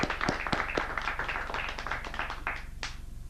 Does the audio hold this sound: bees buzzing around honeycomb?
no